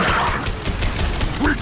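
A heavy high-impact gunshot booms in the sci-fi shooter game Mass Effect Legendary Edition, loud and dense amid continuous combat noise and a brief voice.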